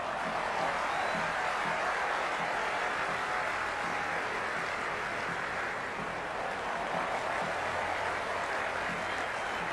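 A large cricket crowd at an India vs Pakistan T20 match roars and cheers continuously, a dense wash of many voices and applause that stays loud and steady throughout.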